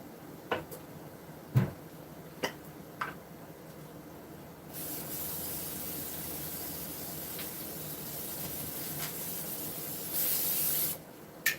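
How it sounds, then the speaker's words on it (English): A steady hiss of Pam aerosol cooking spray onto a baking dish lasting several seconds, preceded by a few light clicks and taps, with a brief louder burst near the end. "So I'm going to spray just a little bit of Pam."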